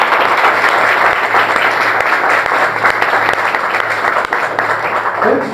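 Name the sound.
congregation applauding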